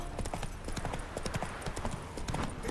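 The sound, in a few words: Geralt's horse Roach's hooves clip-clopping, from The Witcher 3 video game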